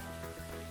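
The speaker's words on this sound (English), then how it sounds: "I hear the rain and, like, other noises more than actual music." Steady rain hiss in the Ty the Tasmanian Tiger video game, a continuous wash of patter filling the short stretch alone with other faint in-game sounds, no talking.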